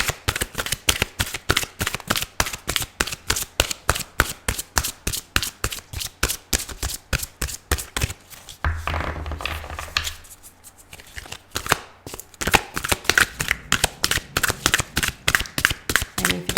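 Rapid, crisp tarot card riffles repeat in quick bursts, a close flurry of snapping shuffles with a brief softer pause midway before the fast rhythm resumes.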